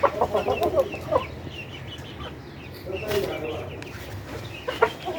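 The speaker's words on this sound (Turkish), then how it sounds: "bu güzel hayvanımız da genç Arap horozumuz" A young Arabian rooster clucks in short bursts near the listener, with scattered rustling and faint background noise between calls.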